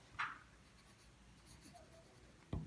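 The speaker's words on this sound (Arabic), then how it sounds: "غادي نجي لهنا غادي نكتب الميليو" Pen or marker strokes on a paper sewing pattern for a basic bodice, two short scratchy bursts near the start and end separated by quiet, with no speech.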